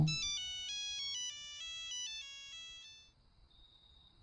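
A voice mimic imitates a mobile phone ringtone, producing a bright, stepped electronic-style melody of repeating tones for about three seconds, then a faint sustained note fading out; close and clear with no talking.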